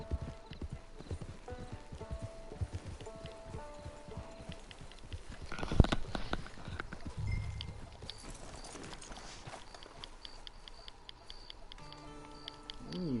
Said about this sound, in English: Riding on this old horse.